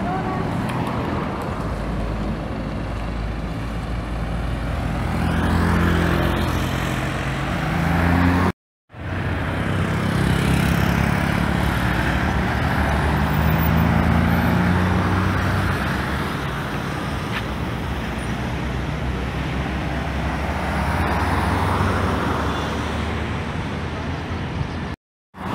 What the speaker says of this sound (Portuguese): Era o carro da Águia Branca, está indo a Vitória da Conquista.